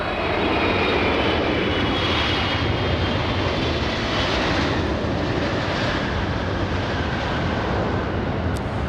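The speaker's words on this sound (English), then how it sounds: "That 777 planting it on the runway" A Boeing 777 lands on the runway at a busy airport, its engines a loud, steady, broadband roar that holds without a break throughout.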